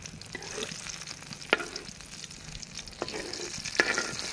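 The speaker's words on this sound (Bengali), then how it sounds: "আমার এই বেগুনগুলো ভাজা হয়ে গেছে" Eggplant slices frying in oil in a pan, with a steady sizzle and crackle, a few sharper pops and stirring clinks standing out above it.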